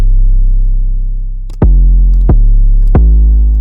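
Three booming 808 bass drum hits, deep and punchy, each sustaining into a long low tail, heard alone and loud.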